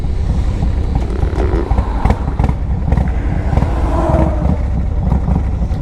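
A 2005 Yamaha Road Star 1700cc cruiser motorcycle on a test ride, its engine rumbling loud and steady with wind buffeting throughout.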